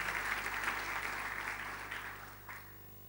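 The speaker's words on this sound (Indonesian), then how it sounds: "Tepuk tangan yang lebih meriah buat Tuhan kita." A church congregation applauds together, the clapping dense at first and gradually fading under a low, steady hum from the room.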